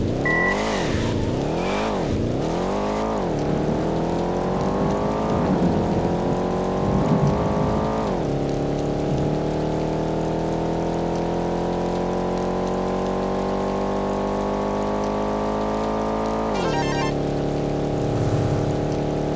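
Racing car engines in Midtown Madness rev up and down through the gears in rising, falling whines, then settle into a long, steady high-pitched drone, loud and close with no talking.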